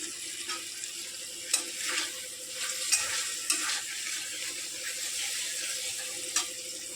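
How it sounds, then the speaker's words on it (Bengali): Ground turmeric, cumin and coriander with ginger-chili paste frying in a pan, a soft continuous sizzle with sharp intermittent scrapes and taps of a spatula, close and fairly quiet with no voices. "এবার ভালো করে এটা আমি কষিয়ে নিচ্ছি।"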